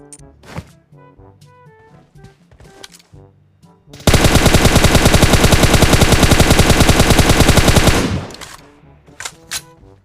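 Automatic gunfire from a rifle fitted with an Angel Pro Grip in PUBG Mobile: a loud, unbroken four-second spray of rapid shots, with scattered quieter single thuds and clicks before and after.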